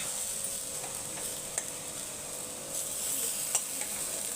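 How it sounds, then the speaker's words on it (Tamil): Masala-coated paneer frying on a dosa griddle, a steady soft sizzle and hiss with a few faint clicks and taps, moderately quiet and continuous without any talk. "இப்போ நம்ம வந்து பன்னீர் மசாலா தடவி வச்சுருக்கோம்ல, அதை வந்து தோசைக்கல்லில் சேர்த்துடலாம்"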